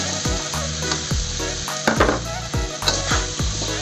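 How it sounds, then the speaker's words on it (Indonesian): Jengkol beans hit hot rendang spice paste in a pan and sizzle steadily, with repeated rhythmic scrapes and knocks of a spoon stirring against the pan, up close and with no voices. "Langsung kita cemplungin jengkolnya ya. Masuk jengkol."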